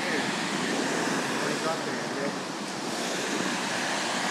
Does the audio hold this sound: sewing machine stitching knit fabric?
no